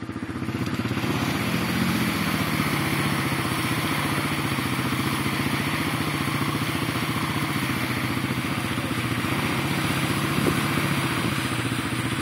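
Engine of a vehicle stuck in mud runs continuously at a steady, loud, close idle-like drone with a rough clattering texture and no talk.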